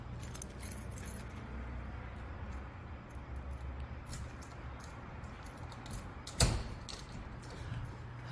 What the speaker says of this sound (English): Here, let me lock this door.